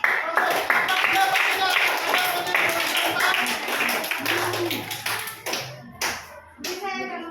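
A school class claps hands in a quick, regular rhythm, with children's voices and talking mixed in, before the clapping breaks up into scattered claps.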